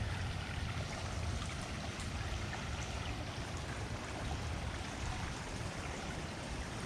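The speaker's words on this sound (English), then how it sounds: "Look at that, there's the creek." Continuous broadband rushing of flowing water, steady and fairly close, with no voices.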